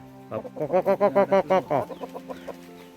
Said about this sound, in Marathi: आमच्या गावात कोंबडी ठेवलेली आहे बघा हे सगळी गावठी कोंबडी बघा